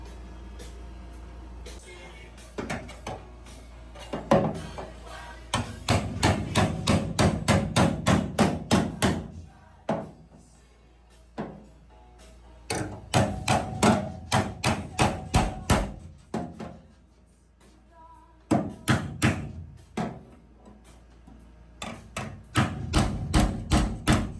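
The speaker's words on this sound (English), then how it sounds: "We'll just have to hammer it in and try and form it to cover this up." Rapid, loud hammer blows ring on a metal patch panel being formed over rust on a truck, in long rhythmic bursts separated by short pauses, close and without speech.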